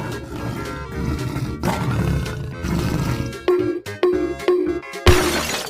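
A tiger roars loudly in a series of rough, growling bursts, with a sharp crash-like hit near the end.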